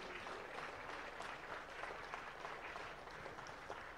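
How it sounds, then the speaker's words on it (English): Audience clapping for styling partner Lakme Academy at a junior fashion week runway show in Bengaluru, an even, sustained burst of many hands, fairly faint and distant. "Please clap your hands for our styling partner, Lakme Academy, Bengaluru."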